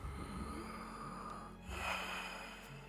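A person takes a single sharp, audible inhale and breath for a doctor's chest examination, heard close and faint with a brief snort-like intake midway.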